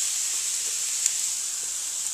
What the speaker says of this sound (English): So a couple little drops of water. Let that steam for just a second.